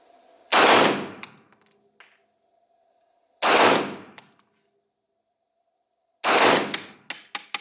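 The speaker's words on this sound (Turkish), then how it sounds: "Canik L120 atışımızı bitirdik." Three loud, close gunshots from a Canik L120 pistol at a shooting test in Marmaris, Türkiye. They come at evenly spaced intervals, and each sharp crack rings out into a decaying tail. A few small metallic clicks follow the last shot.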